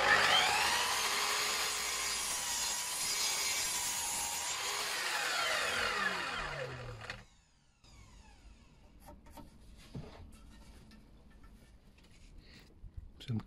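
Wooden stiles for cupboard doors are sawn by hand, with steady rasping strokes for about seven seconds that then stop, giving way to quiet knocks and handling sounds.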